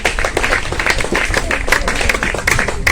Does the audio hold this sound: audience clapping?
yes